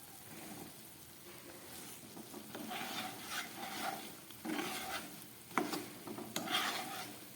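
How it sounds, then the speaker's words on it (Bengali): Khaja sweets for the Rath Yatra festival fry slowly in oil on low heat, a soft bubbling sizzle broken by stirring and scraping sounds, fairly quiet and with no voices. "একদম আঁচটাকে লোয়ে রেখে অনেকক্ষণ ধরে খাজাগুলোকে ভেজে নিতে হবে।"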